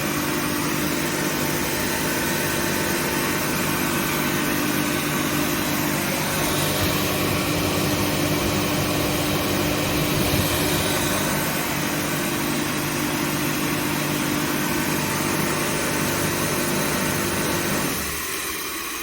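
A Kaeser SK 26 rotary screw air compressor runs steadily at about 8.5 bar, a loud continuous machine hum with a broad hiss, no voices, then drops in level near the end.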